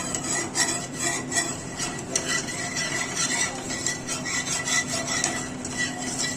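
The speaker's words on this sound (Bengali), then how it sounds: "গ্যাসটা জ্বালিয়ে এটাকে অনবরত এইভাবে নেড়ে যাব" A spoon continuously stirs and scrapes crushed Oreo biscuit cake batter in a pan over a low gas flame, a steady close-up rasping and clinking with no pauses and no voices.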